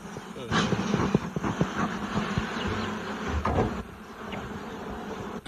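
Honeybees at an open hive of a beekeeping cooperative, a steady close buzz of many bees with occasional frame knocks while someone talks over them.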